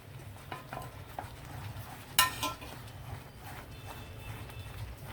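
A thick sweet mixture studded with dry fruits is stirred in a pan, with soft scraping and shuffling strokes over a low rumble and one sharp clink midway.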